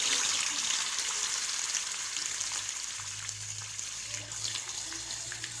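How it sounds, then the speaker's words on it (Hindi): Gola kebabs fry in fairly hot oil over a low flame, three at a time, with a quiet, continuous sizzle and bubbling held at an even level. "ये देखिए एक बारी में मैं 3 कबाब डाल लेती हूँ"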